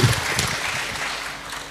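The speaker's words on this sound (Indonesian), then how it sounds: "tepuk tangan untuk kita semuanya" Brief burst of audience applause at a Pancasila debate event, moderately loud and dense clapping that fades slightly toward the end, with no speech over it.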